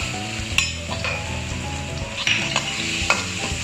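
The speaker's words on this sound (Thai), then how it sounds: "ผัดกระเทียมให้มีกลิ่นหอมนะครับให้มีสีเหลืองทองนะ" Chopped garlic sizzles steadily in hot oil in a wok, with a spatula scraping and stirring in a few sharp metallic strokes over the constant frying hiss, no talking.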